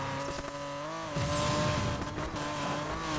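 BMW M3 in Need for Speed Payback taking a high-speed corner at over 130 mph, a steady loud engine drone with a rougher burst of tire and road noise partway through, no talking.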